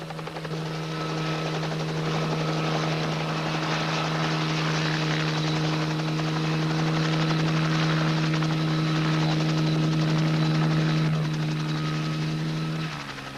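A helicopter flies overhead with a steady, loud rotor drone and a strong low hum, holding constant before easing off slightly at the end.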